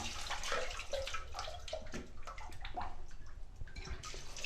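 Steady splashing and sloshing of water as fish are washed by hand in a basin for the fourth time, continuous and close with no talk over it.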